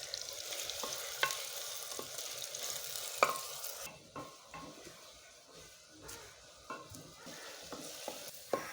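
Onion fries in hot cooking oil in a clay handi, a close, steady sizzle with scraping stirs and occasional sharp clinks of a utensil against the pot, with no talking.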